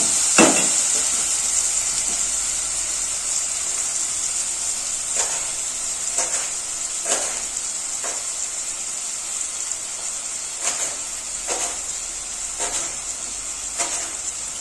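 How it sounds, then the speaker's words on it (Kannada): Onion and green chili frying in a pan for village-style lemon rice: a steady bright sizzle with occasional stirring knocks and scrapes, close and continuous, with no talking. "ಇವಾಗ ಈರುಳ್ಳಿ ಫ್ರೈ ಆಗ್ತಾ ಇದೆ"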